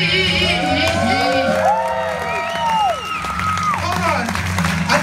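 Audience at a drag show claps and cheers steadily, a dense crowd roar with whoops and shouts running throughout, while a voice speaks over the noise.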